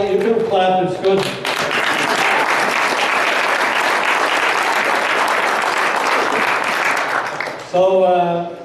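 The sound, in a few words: audience applause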